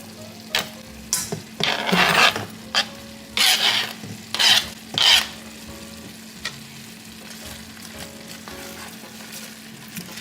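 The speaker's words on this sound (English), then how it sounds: "I have chopped up my cabbage, and I'm gonna add this in." Chopped cabbage tipped into a pan of sizzling ground beef and stirred through, with loud bursts of spatula scraping and crackling frying over a steady background hiss, and no talking.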